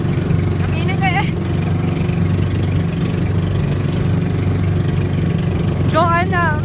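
Boat engine running steadily on the water near Gaspar Island, a continuous low drone throughout with a few brief whistling or chirping sounds, people talking faintly over it.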